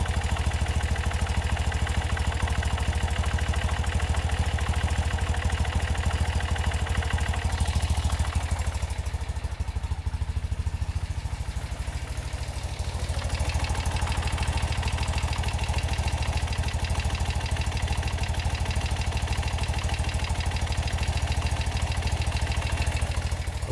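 A BMW Airhead motorcycle engine idles steadily and loudly up close after a timing and carburetor adjustment, with a continuous low mechanical clatter that dips briefly midway before settling back to an even idle.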